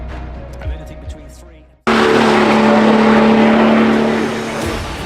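Porsche race cars at an NLS endurance race on the Nürburgring: a loud engine roar suddenly swells and holds, a near pass-by with a strong droning tone, after a quieter opening of distant engines.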